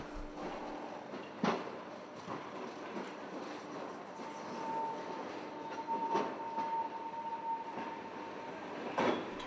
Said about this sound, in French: Le transsibérien pointe son mufle rouge dans la gare de Vladivostok, sans même une minute de retard.